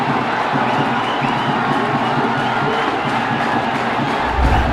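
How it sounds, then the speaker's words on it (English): Schoolboy football crowd at a Zahira College versus Hameed Al Husseinie College derby, a dense, loud roar of cheering and shouting that holds steady throughout, with a low thump near the end. "And you could hear the Zahira crowd."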